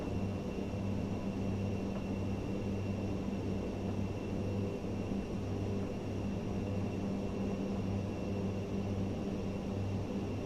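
ATR 72-600 turboprop in the MSFS2024 flight simulator, heard from outside the aircraft: a steady, continuous engine drone with a constant hum and no breaks or talk.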